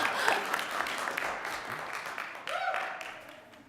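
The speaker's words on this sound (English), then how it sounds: "another round of applause" An audience claps in a round of applause at a Youth In Government meeting, a dense, steady patter that fades gradually over a few seconds, with a brief voice or noise in the middle.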